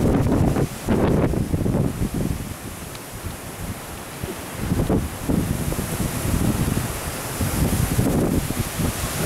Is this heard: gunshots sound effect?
no